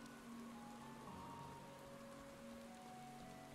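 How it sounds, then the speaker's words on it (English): Steady rain falling in the Final Fantasy XIV game world, a continuous even patter with no voices over it, carrying faint tonal hums underneath throughout. "Oh, I'm walking in the rain."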